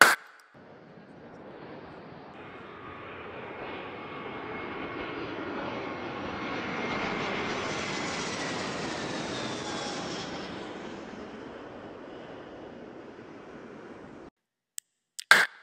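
A small plane's engine drones steadily through the flight, swelling louder toward the middle and easing off again, with brief clicks at the very end.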